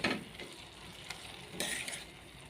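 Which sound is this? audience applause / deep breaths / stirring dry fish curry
stirring dry fish curry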